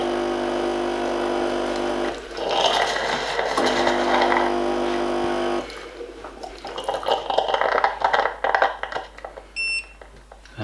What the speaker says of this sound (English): it's just putting in a small amount of boiling water to help sterilise the bottle